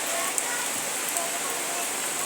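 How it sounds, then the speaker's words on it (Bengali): Steady rain patters continuously, a dense even hiss with no pauses. "এই দেখো বৃষ্টি পড়ছে"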